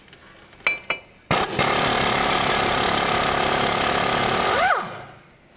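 A powered ratchet with a 13 mm socket spins off the lower strut bracket bolt on a 2007-2010 Chrysler Sebring, a loud close whirring run of about three seconds after a few sharp clicks, winding down at the end.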